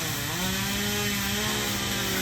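A crew runs a chainsaw through a fallen tree lying across a road, the engine droning loud and steady close by as the chain bites into the wood, with no talking.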